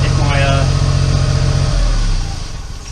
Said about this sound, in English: As you can probably hear, it's running pretty poorly. It's got a misfire on cylinder 3